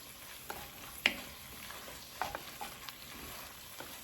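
Vegetables for budget arroz con pollo sizzle quietly in a pan while a spoon stirs them, with a few light clicks and scrapes over a soft, steady frying hiss.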